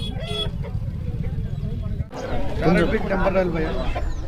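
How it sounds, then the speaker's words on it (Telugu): A one-year-old rooster clucks and gives throaty calls close by at a weekly hen market in Mydukur, mixed in with people talking over it. "ఫుల్ యాక్టివ్ ఉంది పుంజు ఇది"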